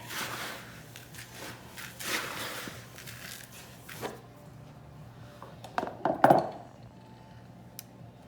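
Molasses cake batter is stirred by hand in a bowl, giving soft scraping and clinking strokes with a few louder knocks near the end, with no talking.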